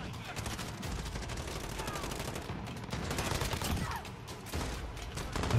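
MP5 submachine gun firing in the video game Modern Warfare, modded to have no recoil: dense, continuous automatic bursts of gunfire fill the whole stretch, loud and busy with overlapping shots.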